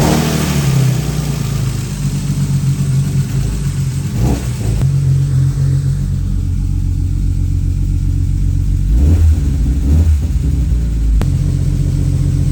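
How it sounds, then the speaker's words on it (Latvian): A car engine idles and revs in a garage with steady low rumble throughout, swelling in a few throttle blips near the middle and end, loud and close with no talk. "motors mums rūc"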